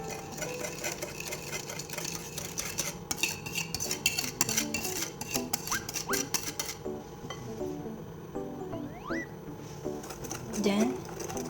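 Brownie batter being mixed, dark chocolate combined with an egg mixture, with a utensil clinking and scraping against the bowl in a steady rhythm while a person talks over it.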